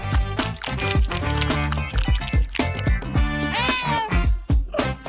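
Cats meowing repeatedly and loudly up close, with rapid overlapping mews and a longer wavering cry near the end, mixed with wet squishing sounds.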